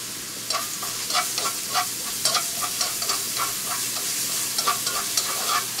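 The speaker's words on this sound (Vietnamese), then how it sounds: "xào tất cả lên" Sizzling oil in a hot pan as shredded ginger, minced lemongrass, shallots and garlic are stir-fried, with repeated stirring scrapes and clatters, a steady crackle punctuated by rhythmic bursts as ingredients are tossed.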